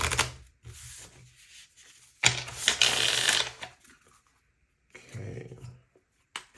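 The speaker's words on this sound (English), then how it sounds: "So let's shuffle these." A tarot card deck is shuffled up close in several separate bursts of riffling and flapping cards, with short quiet gaps between them.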